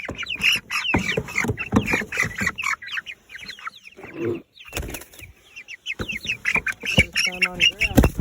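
Young broiler chicks call in their new pasture home on grass, giving busy, overlapping peeps and chirps close by, with a person talking over them now and then.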